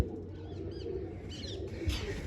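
Large pet pigeons coo softly and close by in a loft, low throaty rolling calls with a faint chirp, no talking.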